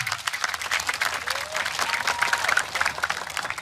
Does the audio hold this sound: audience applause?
yes